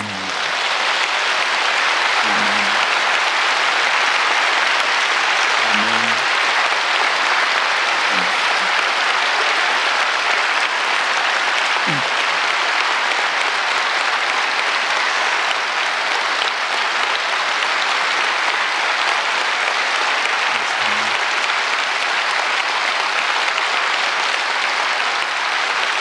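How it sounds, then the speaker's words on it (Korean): A church congregation at a Sunday service claps loudly and continuously, a dense unbroken wall of applause that holds steady throughout with a few faint low voices underneath. "주님이 큰 박수를 받으시고 영광 받으시옵소서."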